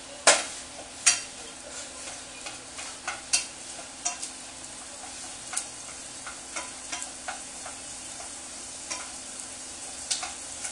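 Garlic, onion and salt sautéing in a little oil to start a Brazilian stroganoff: a steady soft sizzle with frequent sharp ticks and scrapes of stirring, close and continuous, with no talk.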